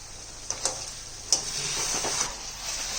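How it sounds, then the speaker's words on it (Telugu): Murrel (korameenu) fish curry being stirred in a pan, with a steady sizzle, a few sharp clicks of the spoon against the pan, and scraping strokes at an even, unhurried pace. "చేపలు మధ్య మధ్య నిలిపోకుండా ఉండాలంటే అలా మన మధ్యలో అలా ఇలాగ కలపాలి"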